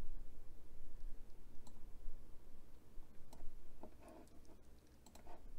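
Sharp, faint computer mouse clicks come singly and in small clusters against a quiet room hum, spaced irregularly across several seconds.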